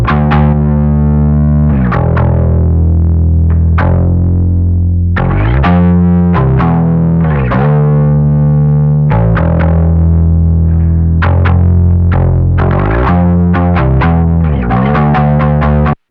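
Worship-style bass guitar with chorus and drive, playing sustained low notes and plucked phrases through compression, loud, close and continuous with no voices.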